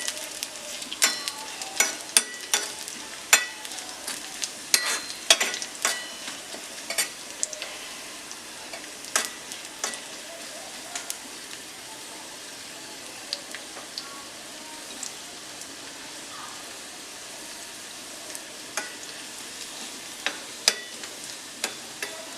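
Dried red chillies frying in oil for a Kerala-style masoor dal make a soft, steady sizzle, with frequent crackles and stirring clicks that are busiest early and thin out later, and no voices.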